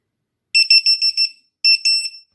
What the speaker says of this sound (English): the alarm would be going off, giving a different tone, indicating someone's picked it up